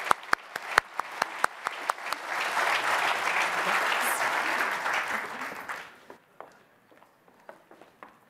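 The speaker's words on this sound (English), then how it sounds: "Can we give our panelists a round of applause?" An audience at an urban growth policy symposium applauds its panelists, starting with a few scattered claps, swelling into full applause, then thinning back to sparse claps.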